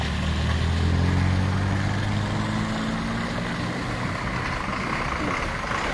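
Vehicles crawling over potholes on the main road of Hiriyur town, a loud, steady heavy engine drone with a deep idling rumble that eases slightly partway through, no voices.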